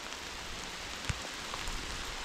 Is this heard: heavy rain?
yes